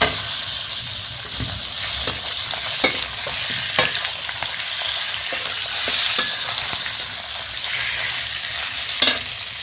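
Meat frying in a pan, a continuous loud sizzle with scattered sharp clicks and spatula scrapes over nearly ten seconds, close up and without talk.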